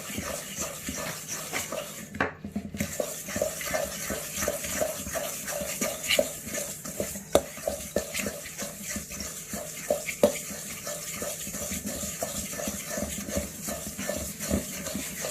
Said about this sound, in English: Let's give it a good stir.